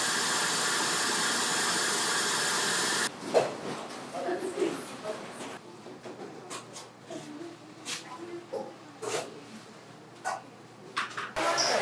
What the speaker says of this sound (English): We want to take the egg whites, corn syrup, and vanilla extract, throw them in a mixer with a whisk attachment.